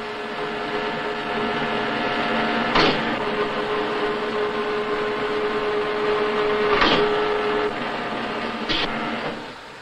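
A gear shaving machine finishes the teeth of hobbed gears on an old lathe production line, giving a steady mechanical whine and hum with a few short, louder transient bursts, mid-distance and without talk.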